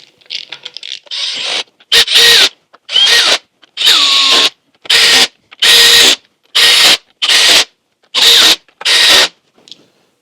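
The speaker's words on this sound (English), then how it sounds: "So first I'll just run these bolts in." Power tool whirring in short bursts as head bolts are run into a 152 Comanche engine, about eight quick evenly spaced zips with silent gaps between, close and loud.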